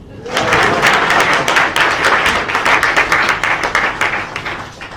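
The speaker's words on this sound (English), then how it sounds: "Now you can clap." A ceremony audience breaks into loud, close applause with sharp individual claps standing out, holding steady for several seconds before easing slightly.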